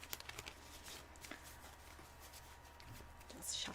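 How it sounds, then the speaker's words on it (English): Soft papery riffling of tarot cards being shuffled, quiet and close, with a few faint taps and a brighter burst near the end. "Just shuffling the card."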